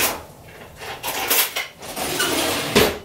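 A spoon is fetched from among dishes, with several light metallic clinks and clatters of cutlery against crockery, close and fairly loud, with no talking.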